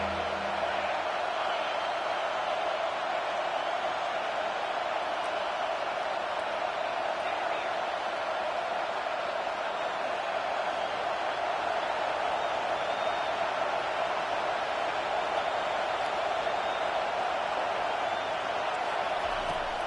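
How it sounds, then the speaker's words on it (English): A home crowd in a college football video game, Alabama against Auburn, keeps up a steady, dense roar of cheering for twenty seconds without clear peaks, moderately loud and continuous. "Man, this crowd really affecting the football game."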